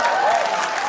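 A comedy show audience applauds in a dense, loud burst of clapping that fills the room.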